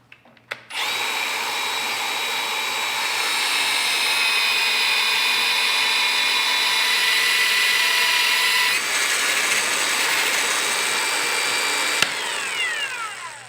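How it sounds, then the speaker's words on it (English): A magnetic-base drill bores holes in the steel bed of an off-road 6x6 truck, a loud continuous whining motor hum with shifting pitch, briefly dipping near the end as the bit breaks through. "I will be using the mag drill"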